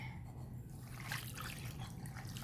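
Water pours and trickles into a pot, five cups for coffee jelly, a faint splashing gurgle under a low steady hum, with no speech.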